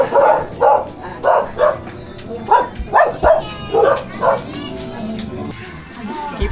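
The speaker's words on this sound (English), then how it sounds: "Oh, you've got the big dogs." Large dogs barking repeatedly in a Manila slum neighborhood, a run of loud, close, evenly spaced barks followed by a few sharper yelps, with a voice speaking briefly among them.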